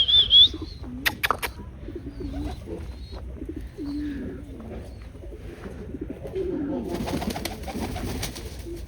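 Pigeons coo in a low, soft, repeated warble at a home loft, a chick among them, with brief chirps and wing rustles, moderately close and steady.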